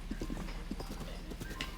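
Horse hooves clip-clop in a steady trotting rhythm in a video game, moderately loud and close, with a faint low hum running underneath.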